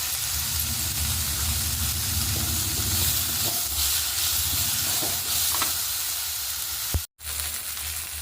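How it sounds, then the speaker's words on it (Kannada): Continuous close sizzling and hiss of cumin seeds frying in hot oil, with a few light scrapes and a brief cutout near the end. "ಸ್ವಲ್ಪ ಜೀರಿಗೆ ಹಾಕೋತೀನಿ ಸಾಂಬಾರಿಗೆ ಇರ್ಬೋದಕ್ಕೆ"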